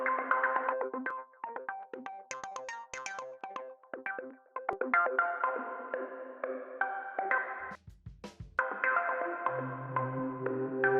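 A heavily processed acid-style synth preset from Analog Lab plays alone in bright, pinging repeated notes, with a brief dropout near the end before a low sustained tone enters.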